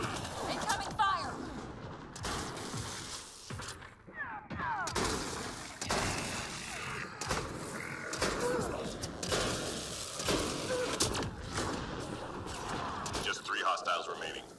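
Incoming gunfire in Mass Effect: Andromeda multiplayer, with sharp bursts of shots and impacts scattered across a busy battle, mixed with game effects and voices speaking over the action.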